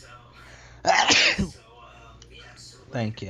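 A single sharp, loud sneeze bursts out close to the microphone, followed by a brief thank-you and a little more conversation during a casual podcast chat.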